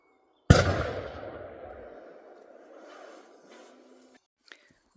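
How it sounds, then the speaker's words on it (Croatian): A single rifle shot fired at a roe deer during a hunt in Croatia, a sharp loud crack followed by a long rolling echo fading over a few seconds, then brief small handling noises. "Upravo sam pucala srnjaka."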